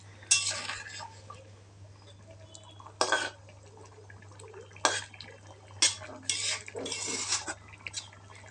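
A metal plate used as a lid clanks against a cooking pot of fish curry in a series of sharp metallic clinks and scrapes, scattered over several seconds against a quiet background hum.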